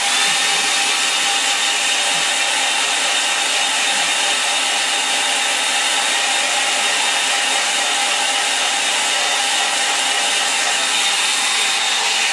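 A hair dryer blows steadily and loudly on a painting to dry the paint, one continuous broadband whoosh running unbroken the whole time with no talking.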